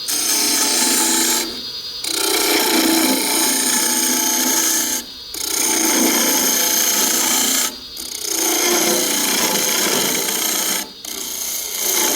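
A round-tip carbide cutter on a power tool shaping wood for a cannikin, giving a loud, steady rasping grind in four long passes separated by brief pauses, with no talking.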